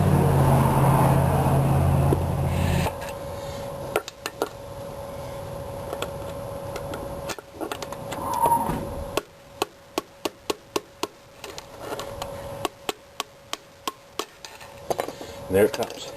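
Metal knocks and clinks as a trailer wheel hub is worked loose and slid off its axle: sharp irregular taps and rattles, some clustered in quick bursts, after a stretch of steady background noise.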